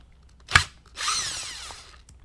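A power driver whirs briefly while a screw is taken out of a Yamaha 704 twin binnacle marine control. A sharp click comes first, followed by a short, close buzzing spin about a second long, and nobody speaks.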